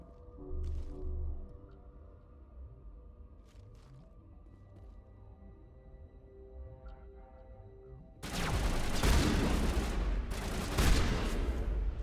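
A shotgun blasts in a sci-fi shooter video game, a loud broadband burst erupting after a quiet stretch of low ambient hum and sustaining with a second peak near the end.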